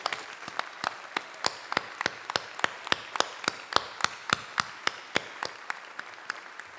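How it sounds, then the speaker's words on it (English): Applause at a community appreciation awards celebration comes through as sharp, evenly spaced claps in a steady rhythm of about three per second, fairly clear against a quiet background. "Please join me in giving a big round of applause to Annie Matthews and Michelle Owen."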